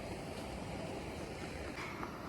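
A mountain stream runs among snowy rocks with a fallen tree nearby, a steady, close broadband rush of flowing water, with no voices over it.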